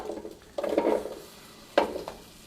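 Potatoes dropped into a pan of hot oil and butter for Mexican-style picadillo give two sudden loud sizzling bursts, each fading into a softer crackle, close and without talk.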